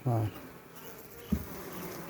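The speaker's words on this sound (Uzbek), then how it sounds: "O, ana arilarni qarang." Honey bees hum around an opened hive box, a faint continuous buzz close by, with a brief thud and a short voice at the start.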